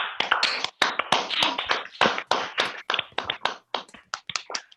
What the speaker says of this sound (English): So please unmute yourselves and give a round of applause to your own selves.